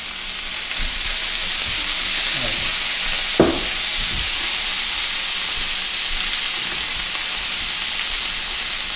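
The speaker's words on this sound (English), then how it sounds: "Eggplants really absorb oil. Need to cook them. Need to get some oil in there." Eggplant fries in oil in a hot pan with a dense, steady sizzle and hiss throughout, plus a brief clatter as the pieces are stirred midway.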